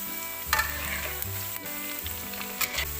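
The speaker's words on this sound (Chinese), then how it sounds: "锅中倒油，油温6-7成热的时候下入薯条。" French fries deep frying in hot oil in a wok over medium-low heat, a steady close sizzle with a few brief clinks and scrapes from stirring.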